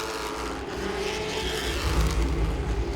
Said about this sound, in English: right now you got 3 packs of cars running, and they're all racing